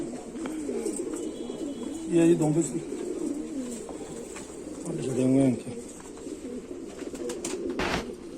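Rampuri pigeon hen cooing in two short rolling bursts, close and moderately loud, while someone talks calmly over most of the stretch, with a brief sharp knock near the end.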